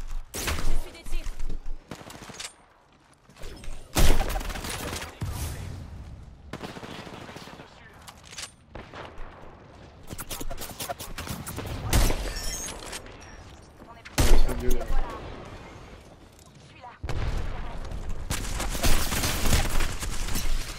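Gunfire in a battle royale video game: bursts of automatic shots come in loud, separated clusters with quieter gaps between them, mixed with game effects and occasional chatter.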